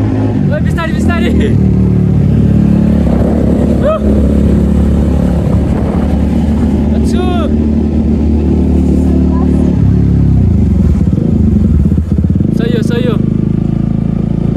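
A motorcycle is ridden along a road, its engine humming steadily and loudly throughout, with wind buffeting the microphone and a person talking over it.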